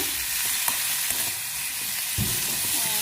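Tomato, onion, coriander and garlic fry in hot oil for a mushroom curry, giving a continuous close sizzle with faint stirring scrapes and a low thump near the end.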